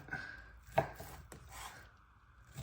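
A knife chopping cooked British ham on a board, a few soft close cuts with one sharper knock, fairly quiet.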